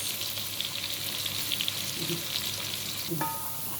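A single onion fries in very hot oil for Egyptian koshari, a steady, fairly quiet sizzle with faint crackles throughout.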